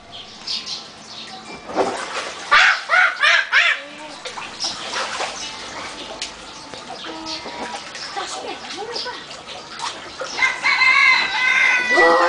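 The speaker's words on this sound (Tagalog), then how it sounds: "Ay, chicken." Chicken clucking near a backyard swimming pool, a few short bursts of calls rising and falling over steady background sound, with splashing or running water nearby.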